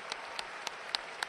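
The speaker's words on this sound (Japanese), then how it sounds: "大拍手。" Applause follows a judo final at the 2022 All-Japan Championships in Tokyo, heard as steady crowd clapping with a few sharper claps standing out over the hall's background.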